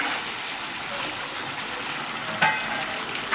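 Vegetables with a piece of tomato sizzle steadily in a hot pan as they are gently stirred, with a constant close-up frying hiss and a couple of sharp utensil scrapes near the end, and no one speaking.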